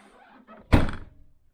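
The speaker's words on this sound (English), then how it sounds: "Let's shut the door." A Land Rover Freelander 2 tailgate slams shut with a single solid thunk after some faint handling noise, followed by a quick decay to silence.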